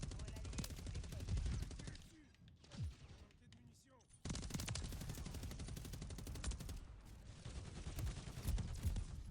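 Rapid automatic gunfire from a Fortnite or MW3 match rattles loudly in dense, sustained bursts, briefly dropping off before resuming, with a voice speaking faintly underneath.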